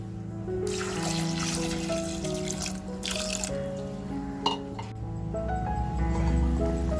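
Water runs from a tap into a cooking pot to boil crab, a steady splashing trickle that fills the pot with no talking.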